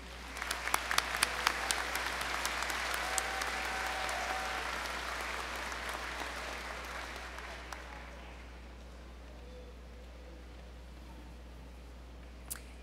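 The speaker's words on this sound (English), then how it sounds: "please join me in giving one more round of applause to our Presidential" Commencement audience of graduates and guests applauding award leaders: a crowd's dense clapping with a few sharp near claps at the start, sustained for several seconds, then tapering off and fading into quiet room tone.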